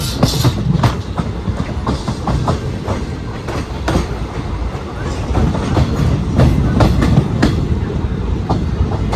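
Loud rumble and rhythmic clatter of a train rolling past close by, wheels clicking steadily over the tracks throughout.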